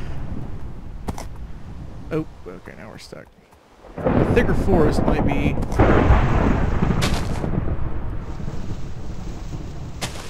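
Minecraft thunder from a lightning strike bursts in as a loud, long rolling rumble, with rain-like hiss continuing. Someone talks over it.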